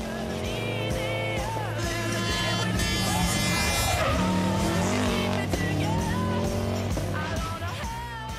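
Subaru Impreza rally car engine revving hard with shifting pitch at the 2022 Rallye Mont Blanc, tires squealing at times, continuous and loud, with a voice talking over it.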